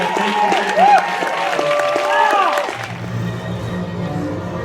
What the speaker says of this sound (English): A special round of applause for our amazing music director, Maria.